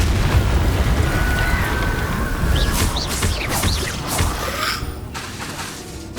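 Bombarda spell explosion in Hogwarts Legacy, a booming blast with crackling debris and bright magical shimmer, loud against a rumbling battle background, with further sparkly bursts trailing after.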